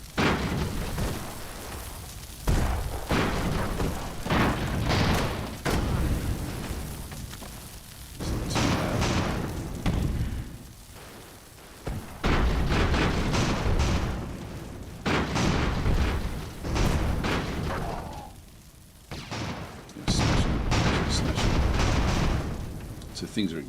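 Steampunk airships blowing apart in the video game Airships: Conquer the Skies, with heavy booming explosions and crackling bursts erupting in clusters, loud and repeated, while someone talks over the battle.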